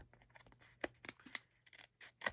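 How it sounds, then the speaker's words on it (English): Scissors snip excess paper from a card-making piece being trimmed for a white card base, several quick close cuts scattered through a quiet room with no talking. "we're just going to snip off that excess"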